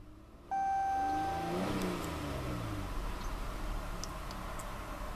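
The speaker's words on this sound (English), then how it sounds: "Very potent yet very throaty soundtrack to that big V6." V6 engine of a 2015 Chrysler 200C revving: a sudden start gives way to a rising then falling engine note, heard up close and fairly quiet, with a few faint ticks afterward.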